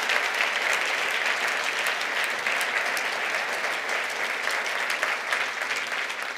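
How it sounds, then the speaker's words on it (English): Steady applause from an audience at Marquette University's 2019 presidential address, welcoming new faculty members; dense, even clapping fills the whole stretch without a break and no voices rise above it. "Let's give a round of applause to those new faculty members that are maybe here in the audience today."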